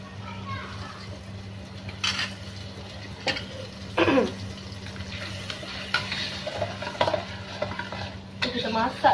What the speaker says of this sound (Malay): sebab tu minyak tu memang nak kena lebih sikit sebab kita nak masak sikit rempah ni bagi dia masak